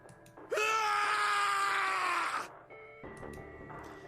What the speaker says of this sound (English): His scream echoed through the incineration chamber, full of rage and despair.